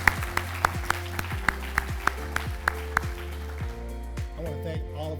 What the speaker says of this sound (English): I want to give them a round of applause for everything they're doing.